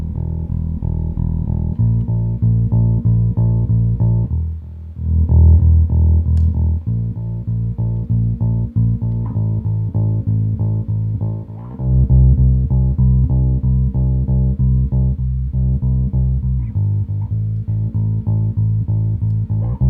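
Bass guitar running through a Guitar Rig bass amp simulator in Ableton, playing a deep, steady riff of repeated notes with brief gaps. The line is loud and close, and no one speaks over it.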